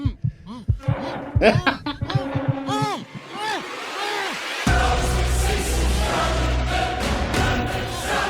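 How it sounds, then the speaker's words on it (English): A heartbeat pulse runs beneath a music track, a steady low thumping rhythm that gives way to a denser, sustained low drone in the second half, with no voices over it. "Love how you hear that heartbeat underneath right here."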